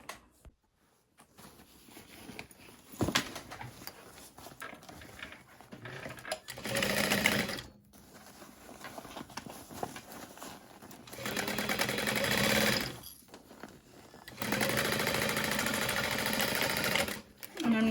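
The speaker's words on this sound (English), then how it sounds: "sew it up" A sewing machine stitches a Tribbiani Traveler bag in several runs, its rapid whirring bursts loud and close, broken by quiet pauses and handling noises.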